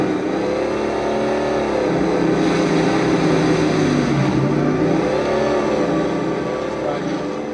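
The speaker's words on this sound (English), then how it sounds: "you can hear the growl of the two-stroke. Then you got this really growly, 4-stroke, huge sounding exhaust." Video game vehicle engine from Halo 3, blending a growling two-stroke with a deep, huge-sounding four-stroke exhaust, rumbles loudly and steadily with slowly shifting pitch throughout.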